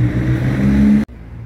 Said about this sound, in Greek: Ακούγονται τα αυτοκίνητα γιατί το μαγαζί βρίσκεται δίπλα στο δρόμο.